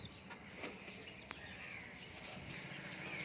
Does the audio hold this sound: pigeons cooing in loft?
yes